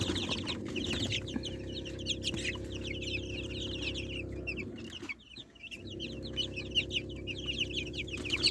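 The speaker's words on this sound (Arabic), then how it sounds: "شايفين الفراخ البيضة بتاعتنا بسم الله ما شاء الله زي العسل" Native baladi chickens, twelve-day-old chicks among a flock, cluck and chirp steadily and fairly close, a dense chorus of short calls over a low farmyard hum, briefly dipping quiet midway before resuming.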